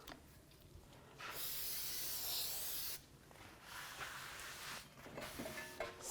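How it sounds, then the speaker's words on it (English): Brake parts cleaner sprays onto the rotor of an 08-12 Dodge Grand Caravan rear brake job in one steady, loud hiss lasting under two seconds, with quieter wiping and handling noises before and after. "take some brake parts cleaner. We're going to clean the coating off of the rotor."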